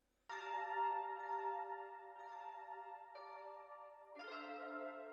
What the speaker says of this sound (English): we added another pad from an analog lab bank. It's called the Double Road preset.